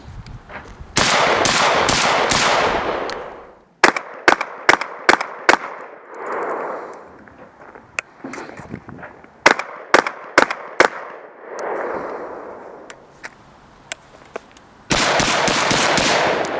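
A Remington 11-87 20 gauge semi-automatic shotgun firing outdoors: sharp, loud reports come in spaced singles and quick strings, with stretches of rushing background noise between them.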